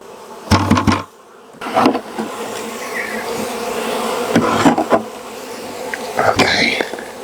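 Honeybees at an open hive hum with a steady close buzz, broken by handling knocks and brief low speech.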